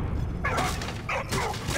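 A dog barks in the World War I game Valiant Hearts: The Great War, a few yips and woofs in quick succession over a steady game backdrop, fairly close and clear.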